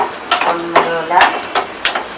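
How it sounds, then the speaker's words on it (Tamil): Onions sautéing in a pan for a spinach gravy (pasalai keerai) are stirred with a series of short, close scraping clatters over a faint sizzle, spaced irregularly across about two seconds. "இப்போ வெங்காயம் நல்லா வதங்கிடுச்சு"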